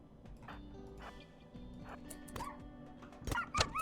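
Dogs yelp and whimper while being stabbed in RimWorld, sharp yips and cries rising toward the end over a steady game soundtrack with clip-clop-like thuds.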